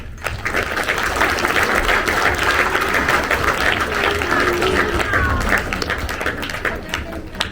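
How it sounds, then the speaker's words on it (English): An audience at a club's annual awards ceremony applauds steadily, a continuous patter of many hands in a hall, moderately loud and without pause. "A big round of applause for that."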